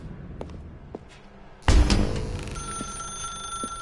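A telephone rings in The Stanley Parable, starting abruptly after a few faint taps and a thud in a dark room, with loud, sustained electronic ringing that carries on steadily to the end.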